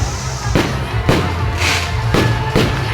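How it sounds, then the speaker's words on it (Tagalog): Fireworks burst in several loud, sharp bangs at irregular intervals over a constant low rumble and crackle, at a Christmas lights opening in Pantukan, Davao de Oro. "1 minute fireworks guys"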